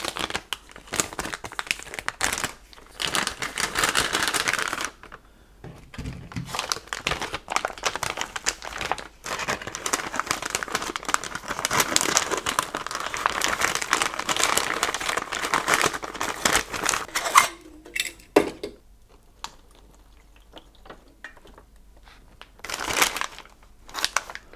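MRE packaging and a multi-purpose pouch handled up close for a pepperoni pizza meal, with continuous crinkling and rustling of plastic and foil that pauses briefly and then resumes in short bursts.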